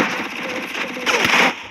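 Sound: gunfire in video game Free Fire

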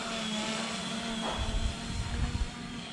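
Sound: Fimi A3 camera drone flying

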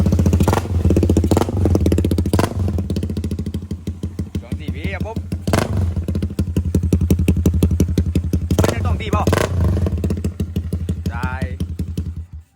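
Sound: Honda Sonic motorcycle with CB150 engine idling in neutral

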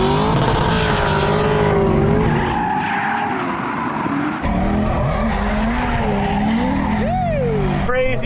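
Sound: V8 BMW E36 drifting with tire squeal at Lone Star Drift

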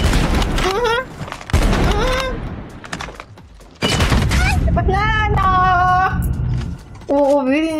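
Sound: NA45 sniper rifle hip fire gunshots in video game

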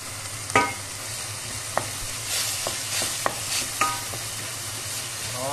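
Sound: onions sweating in butter in a pot

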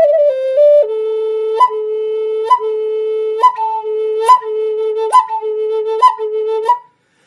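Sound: Native American flute barks within notes

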